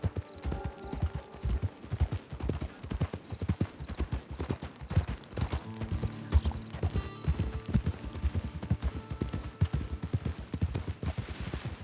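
Horse hooves clip-clop in a steady, rhythmic gait through the Red Dead Redemption game world, close and distinct, with faint mechanical clatter and background ambience underneath and no talk.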